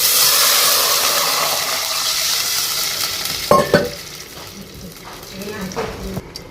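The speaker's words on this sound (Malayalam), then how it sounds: "വെള്ളം ഒഴിച്ചു കൊടുക്കാം" Water is poured into a hot pan for Kerala ghee rice, giving a loud steady hiss and sizzle that fades over several seconds, followed by a few clinks and stirring sounds.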